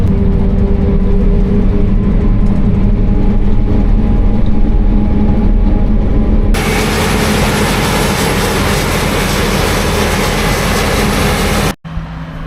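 A John Deere F9 forage harvester drones steadily and loudly, with a broadband roar that suddenly intensifies midway, then cuts briefly near the end.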